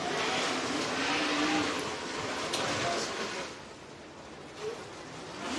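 Dirt track race cars at Sugar Creek Raceway make a steady, distant engine roar that swells and fades as they circle, faint under broad crowd and track noise.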